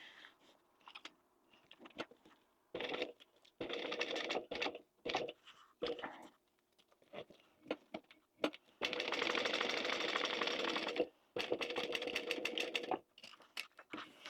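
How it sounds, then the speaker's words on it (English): A sewing machine backstitches a seam on a Juno wallet, its close whirring coming in short stop-start bursts and two longer runs, with soft clicks between them. "I'm going to backstitch well at this point."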